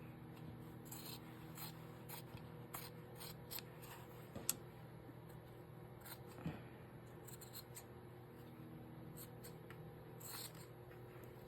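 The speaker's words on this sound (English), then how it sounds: "Let's trim this down here so I'm not fighting with a little piece there" Scissors snip through cardstock while a Christmas journal cover is trimmed, a series of quiet, close, irregular cuts with short pauses between them over a steady background hum, and no talk.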